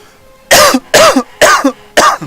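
A man coughs hard four times in quick succession, each a harsh, close, loud bark with short gaps between.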